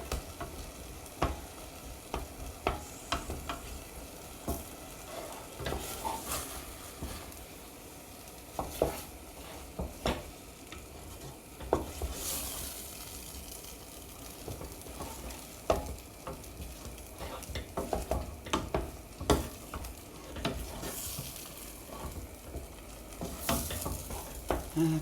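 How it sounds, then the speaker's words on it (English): Tomato soup bubbling in a pot on the stove gives a soft, steady simmer with scattered pops and small clicks, faint and continuous without talk. "Now it's starting to boil, so I'll just watch the time for a minute."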